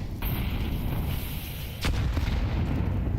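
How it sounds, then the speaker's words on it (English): Grenade explosions in the video game Counter-Strike, with muffled booming blasts, one sharp burst near the middle and a rumbling ambience around it, and no talking. "Early nades land towards GamerLegion's feet."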